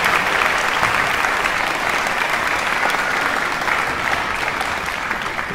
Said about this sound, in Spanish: Pónganse de pie, un aplauso para ellos.